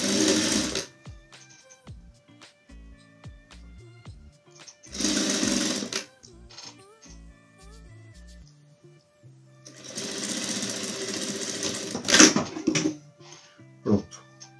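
An electric sewing machine stitches tricot cotton fabric strips for a patchwork rug, running in three bursts of steady whirring at the start, the middle and near the end, with quiet handling sounds and a couple of sharp clicks between.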